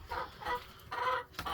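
Hens in a coop giving a few soft, low clucks in quick succession, faint and close, with no voices.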